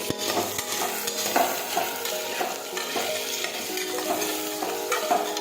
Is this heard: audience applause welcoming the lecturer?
no